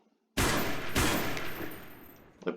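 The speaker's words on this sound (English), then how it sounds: "So as you can see, it can fire full auto." Fallschirmjägergewehr 42 rifle in the video game Call to Battle 2, firing full auto: a loud, sustained burst of rapid shots lasting about two seconds, then a brief mechanical clatter.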